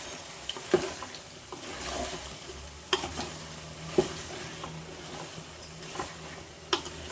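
Ginger is stirred into a frying country-chicken curry, a spoon scraping and clinking against the pan several times over a low, steady sizzle, with no talk during the stirring.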